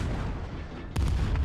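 Self-propelled guns fire in the video game Call to Arms during a modern German tank battle, one loud sudden boom cutting into a low steady rumble, with a few quick follow-up echoes trailing after it.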